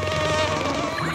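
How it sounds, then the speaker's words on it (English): A mosquito's thin, whining buzz hovers close and steady, wavering slightly in pitch as it drifts near someone, with no talking over it. "there's a mosquito on you."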